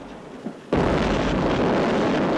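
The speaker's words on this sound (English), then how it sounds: "That's a pretty impressive explosion." After a quiet moment, a sudden loud explosion in a Pink Floyd recording bursts in and becomes a sustained roaring rumble that continues to the end.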